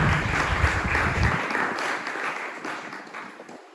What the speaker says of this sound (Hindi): आइए उनका तालियों के साथ स्वागत करते हुए